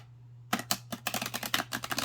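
An oracle card deck is riffled and shuffled up close, a quiet pause giving way to a rapid run of crisp card flicks and slaps, alone with no voices.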